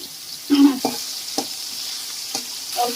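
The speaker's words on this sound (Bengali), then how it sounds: "এবারে ওই তেলের মধ্যে কেটে রাখা ঝিঙে গুলোকে দিয়ে ভেজে নেওয়া হচ্ছে" Cut ridge gourd pieces sizzling in oil in a pan, a soft steady hiss punctuated by a few brief stirring clatters and spatters, close by with no talk.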